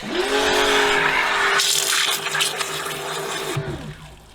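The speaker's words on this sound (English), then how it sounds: "let's grab the pressure washer. So let's blast some water through it" A pressure washer blasts water into an overly full bucket while testing a Turtle Wax car shampoo, a loud steady hissing roar with a machine drone underneath that surges partway through and then cuts off near the end.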